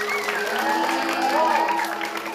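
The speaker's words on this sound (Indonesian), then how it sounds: "tepuk tangan." Village audience applauding at a Balinese drama gong performance, a steady, full wash of clapping that runs throughout, with tonal voices or music threading over it.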